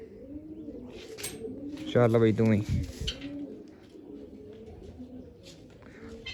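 A pigeon coos in a short burst, close and loud, with someone talking around it.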